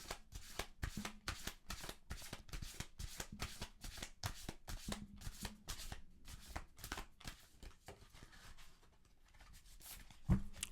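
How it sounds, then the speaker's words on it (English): Oracle cards being shuffled by hand, a quick series of rhythmic riffling snaps close to the microphone that slows and thins out toward the end, ending with a single sharper tap, with no one talking. "Let me shuffle these."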